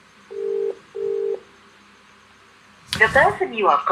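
Two steady ringback tones sound in succession, each about half a second long, followed by a pause and then a voice talking.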